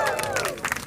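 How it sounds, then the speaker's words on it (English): A crowd at a climate-summit award event cheers and claps in a short, lively burst, with whoops rising over a bed of applause, loud and close, and a voice tailing off at the start. "Can we get a little cheer for the climate champions?"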